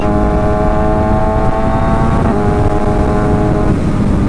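A Kawasaki ZX6R sport motorcycle rides along the Tagaytay–Nasugbu road, its engine a loud, steady droning whine with a constant rush of wind, close and unbroken throughout.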